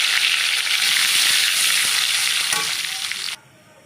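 Bay leaves, nigella seeds and dried chillies sizzle loudly in hot oil just after a fish head was fried, a steady close crackle that drops off sharply near the end.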